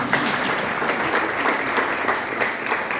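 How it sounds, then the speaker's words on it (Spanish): An audience at a book launch breaks into sustained applause, a continuous dense patter of many hands filling the room with no talking over it. "Así que también por eso otro aplauso."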